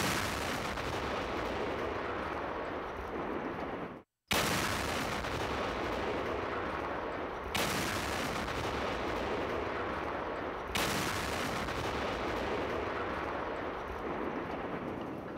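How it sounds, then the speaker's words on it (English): Simulated bombing explosions roar in a dense, continuous rumble of blasts and heavy gunfire-like bursts, loud and close, broken by one abrupt silence and surging again in waves. "That was actually a simulation of the bombs."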